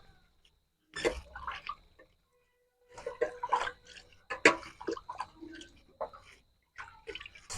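Chopped bitter gourd being washed in water in a village kitchen, intermittent splashes and sloshing bursts with gaps of silence between them, close and moderately loud.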